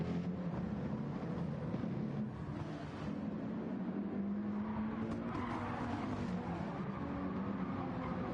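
Race cars in a GT racing video game on the Deep Forest track, engines droning steadily at close range with rising revs and a hint of tire squeal.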